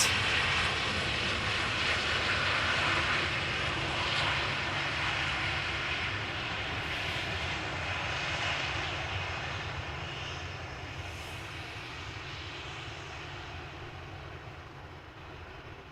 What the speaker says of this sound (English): another Vueling is coming in. Another A320, flight 8353